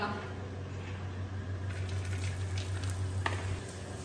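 Ingredients fry in a pan with a steady, close hiss and a low hum underneath, with a few light stirring scrapes toward the end and no voices.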